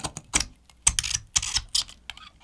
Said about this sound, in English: so strong in fact it's difficult for my razor blade to get a bite on the metal